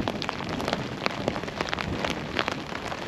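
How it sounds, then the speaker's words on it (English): Steady rain falls outdoors during an ice-fishing outing, a dense, even patter of drops on surfaces all around, close and continuous with no voices. "It has just switched to rain"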